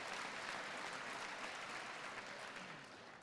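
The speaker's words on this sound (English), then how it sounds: "We got some Democrats clapping their hands." Audience members applaud at a political address, a dense wash of hand clapping filling the whole stretch, fairly faint and distant, tapering slightly toward the end with no talk over it.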